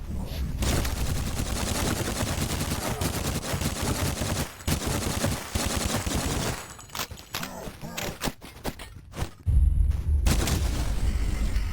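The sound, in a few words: retro video game gunfire: shotgun, pistol and machine gun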